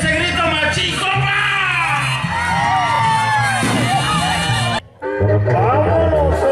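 Rodeo crowd at a ranch in Atzompa, Puebla, shouting, whooping and cheering loudly and steadily around a bull ride, with an announcer's amplified voice running over it and a brief dip near the end.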